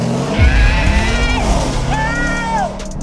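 A Corvette engine revs hard nearby, its pitch rising and falling through repeated throttle blips, with excited voices talking and shouting over the roar.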